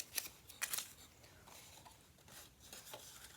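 Scissors snip a small finger hole into a paper box piece near the center, giving two quick crisp cuts early on, then soft rubbing and handling sounds, all close and fairly quiet.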